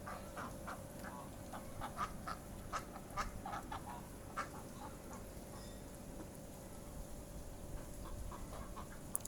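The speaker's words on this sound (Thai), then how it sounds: "วันนี้พาน้องมาดูเป็ด กับกาบครับ" Ducks quack in scattered, repeated calls at a moderate distance outdoors, over a steady background hum with no one speaking.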